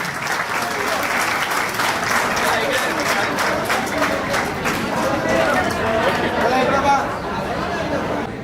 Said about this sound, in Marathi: खूप जोरदार टाळ्या मित्रांनो